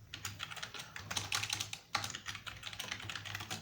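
Rapid, uneven typing on a computer keyboard during a PHP coding session, light close key clicks in quick bursts with a brief pause, no talk.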